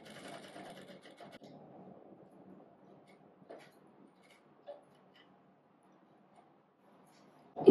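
A sewing machine stitches churidar neck fabric, a steady quiet whirring run that slows and fades midway, followed by a few faint clicks and a sharp knock at the end.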